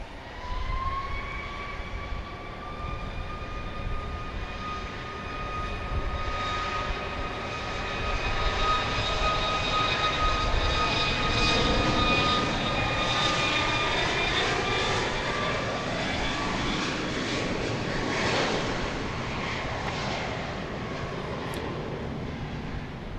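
Airplanes at Dallas Love Field roar continuously at night, a loud, steady engine drone with rising and falling turbine whine as aircraft pass, heard without talk.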